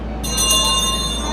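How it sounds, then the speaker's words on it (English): A classroom bell at Knott's Berry Farm rings in one bright, sustained, shimmering burst that starts suddenly and lingers over a low background hum. "Ring that bell and say class dismissed."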